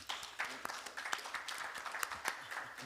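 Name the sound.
audience applause for presenters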